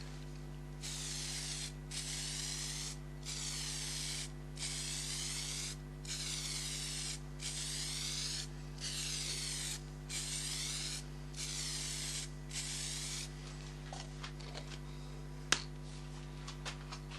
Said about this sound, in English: I'm just going to use cellulose sand and sealer again.